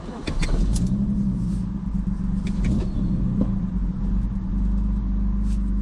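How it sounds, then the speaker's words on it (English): A turbocharged BMW E46 with a blown engine idles with a rough, lumpy rumble, its irregular stumbles and knocks suggesting misfires, heard up close without talk. "That is not good when it misfires like that."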